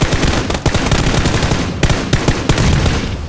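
Automatic gunfire in the video game PUBG Battlegrounds, loud close rapid-fire bursts broken by short gaps, nearly continuous throughout.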